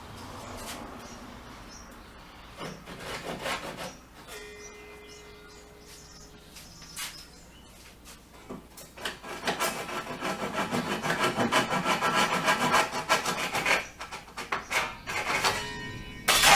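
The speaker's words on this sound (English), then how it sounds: "So I'm just going to finalize the cuts now with my Japanese saw on the 2 ends" A Japanese hand saw cuts the ends of wooden boards for a poolside deck, starting with slow rasping strokes and building into fast, rhythmic back-and-forth sawing that grows louder toward the end; no talking.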